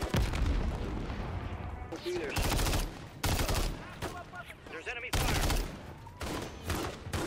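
Rapid bursts of gunfire from the Call of Duty: Modern Warfare 3 campaign crackle in repeated clusters, loud and close, with heavy booms layered over a dense battle soundscape.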